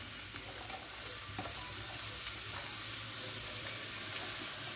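Onions are tipped into radish bhurji frying with ginger and garlic, producing a faint, even sizzle and soft stirring that runs unbroken throughout.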